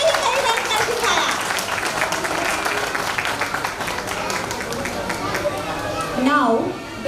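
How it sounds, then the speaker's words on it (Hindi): Parents applauding at a school annual day for playgroup and nursery children, steady dense clapping that carries through the clip with crowd murmur and voices underneath, fading near the end. "तालियों की गूंज एक बार फिर हो जाए हमारे नन्हे सितारों के लिए"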